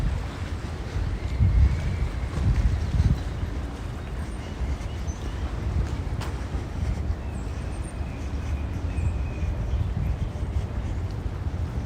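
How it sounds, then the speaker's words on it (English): A low, churning rumble of a fast boat passing on the water near South Ferry, New York, mixed with wind noise buffeting the microphone, strongest early then settling. "All that noise is from that boat that went by."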